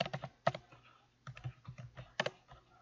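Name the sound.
typing on a computer keyboard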